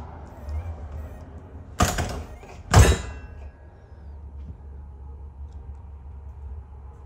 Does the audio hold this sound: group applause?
no